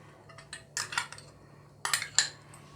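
Ground mustard paste is pushed through a strainer to separate the husks, giving two short bursts of metal utensil clinks and scrapes against the sieve and bowl, close and fairly soft, with quiet pauses between.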